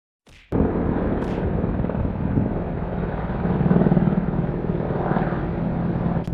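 Military helicopters flying over Tapalpa, Jalisco, a steady, loud engine and rotor drone that starts abruptly and continues without a break, with no talking.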